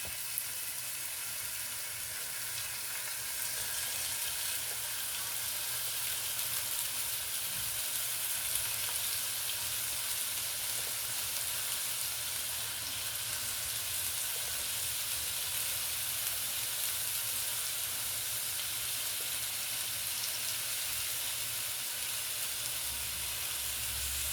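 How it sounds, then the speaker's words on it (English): Chicken sizzles steadily in a hot frying pan, a continuous crackling hiss that stays even and close throughout, with no talking. "Here it's sizzling. That's what we want."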